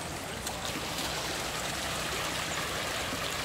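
Creek water running steadily at a rural homestead, a continuous close rushing and trickling wash at moderate level with no break.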